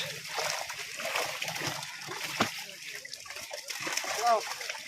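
Newly brought fish are released into a pond, with sloshing and splattering water splashes throughout, under voices talking nearby.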